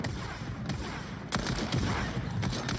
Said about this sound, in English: Combat shotgun is fun.